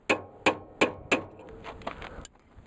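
A socket is tapped down onto a fitting on an RV propane heater: four sharp, evenly spaced metallic knocks up close, followed by a few softer, quicker taps.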